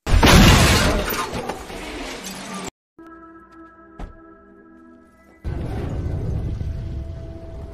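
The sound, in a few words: car crash, rollover and explosion in a film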